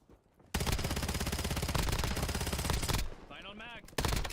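Dense automatic gunfire in the shooter game Call of Duty Black Ops 7, loud sustained bursts after a quiet start, briefly easing with chirping game effects before another burst.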